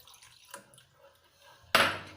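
Water is poured into a semolina and curd batter in a bowl; a few faint drips lead up to one short, splashy pour near the end, close and quiet.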